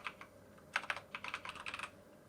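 Quiet, close clicking of keys typed on a computer keyboard, a quick irregular burst of about a dozen keystrokes.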